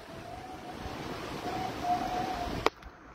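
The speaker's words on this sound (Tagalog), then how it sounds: "Narinig mo yung pito ng hangin" High, thin whistle of wind during Typhoon Marce in Aparri, Cagayan, rising and wavering over a steady windy roar, then a sharp knock before the noise drops away.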